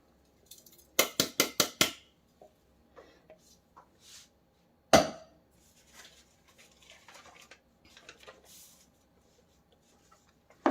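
Chopped dry fruits are stirred into a mixture in a pan. A rapid run of sharp metallic clinks comes first, then a single loud knock, and sparse soft scraping and tapping continue in a quiet kitchen.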